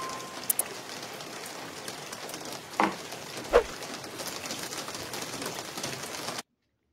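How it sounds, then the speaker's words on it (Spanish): Steady rain hiss runs through a song, with faint bird coos and a couple of brief thuds over the constant wash of falling drops until it cuts off. "Uy, sabroso, una canción con lluvia."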